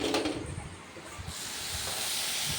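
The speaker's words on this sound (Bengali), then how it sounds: "কিছুটা পরিমাণ ভেজে আমি নিচ্ছি অল্প করে ভেজে নিচ্ছি" Luchi frying in hot oil make a continuous sizzling hiss that swells and settles, heard close up, with a few soft bubbling pops underneath.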